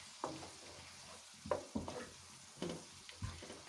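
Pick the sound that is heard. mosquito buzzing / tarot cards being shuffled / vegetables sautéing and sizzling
vegetables sautéing and sizzling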